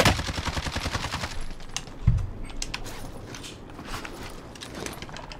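Rapid bursts of LC10 submachine gun fire in Call of Duty Warzone, a fast, close, loud rattle of shots that stops after about a second and a half, followed by scattered quieter shots and game ambience.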